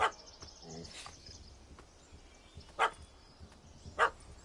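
Two or three sharp barks from a puppy in The Witcher 3 ring out over a steady noisy backdrop, spaced a second or so apart, with a thin synthetic edge.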